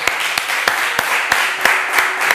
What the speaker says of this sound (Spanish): Un fuerte aplauso para Osvaldo